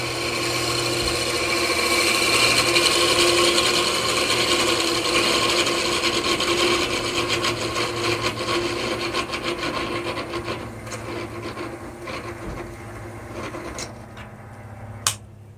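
A wooden tool handle is turned on a lathe spinning at 800 RPM, giving a steady close rasping, scraping drone from the cutting tool. It eases off toward the end and finishes with a sharp knock.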